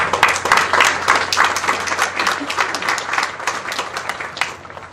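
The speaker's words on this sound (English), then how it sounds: "I think we owe another round of applause to both Trish and to Marty." Steady, enthusiastic applause from a large college commencement audience, a dense wash of many hands clapping at once that holds throughout without letting up.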